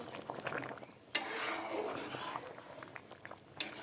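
Fish curry broth with chapila fish bubbling at a rolling boil in a pot, a steady close seething hiss with brief clatters of utensils against the pan at the start and end.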